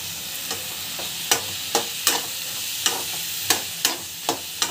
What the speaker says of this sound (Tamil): தேங்காய் வந்து இதில் போட்டுக்கலாம் ஸோ நல்லா வந்து வதங்கட்டும்